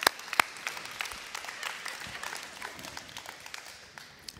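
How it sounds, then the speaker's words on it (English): An audience applauds with a few sharp, close claps at the start, then settles into a steady wash of many hands clapping that gradually softens toward the end. "So give them a round of applause."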